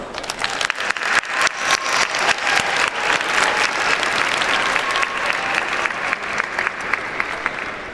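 Audience applause fills a graduation ceremony hall, steady and dense for the full stretch, with individual claps popping out near the start before the sound settles into an even roar.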